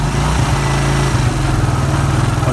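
A 1996 Suzuki Quad Runner engine idles steadily up close, giving a loud, even low-pitched drone with a smooth, constant rhythm and no voices.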